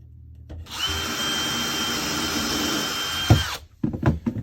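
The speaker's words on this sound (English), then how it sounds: "going to pre-drill these holes a little bit just because the screws aren't that sharp" A power drill whirs steadily for about three seconds while pre-drilling screw holes in a wall inside a converted school bus, then stops, followed by a few clunks and handling noises.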